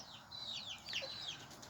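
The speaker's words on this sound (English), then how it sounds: "I let my chickens out." Quiet, high-pitched chicken vocalizations in a coop, a few squawks and murmured clucks close by against faint background noise.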